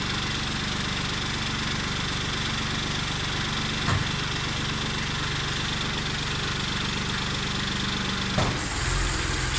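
A Kubota tractor runs steadily while its hydraulics lift a tipping trailer, a constant droning engine hum with two brief knocks, close and without talk.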